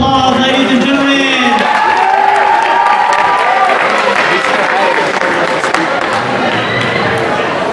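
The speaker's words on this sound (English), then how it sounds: "Let's give them a round of applause, ladies and gentlemen." Crowd of students applauding and cheering at a senior high school pep rally, a dense loud wash of clapping with shouts and chatter throughout, tonal voices rising over it early on.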